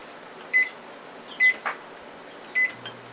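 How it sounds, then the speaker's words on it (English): An oven timer is set for forty minutes and started, giving three short, clear electronic beeps spaced about a second apart, each followed by a soft button click, with no talk. "let's set our timer for 40 minutes. And click start"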